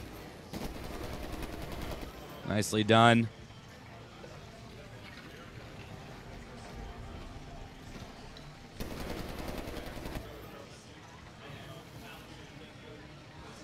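A short burst of rapid machine-gun fire from a robot's mounted gun in Medal of Honor: Warfighter, with ambient hum around it and a brief spoken remark nearby.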